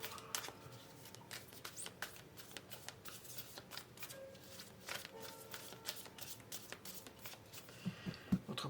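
Tarot cards shuffled by hand at close range, a rapid patter of crisp card flicks and slides going on steadily throughout, quiet and without speech.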